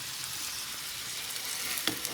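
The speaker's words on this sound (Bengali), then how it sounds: "এই মিষ্টি আলু তো ভাজা করতে বেশি টাইমও লাগে না" Sweet potato pieces frying in a pan on a home stove, a steady close hiss and crackle of oil lasting throughout with no voices.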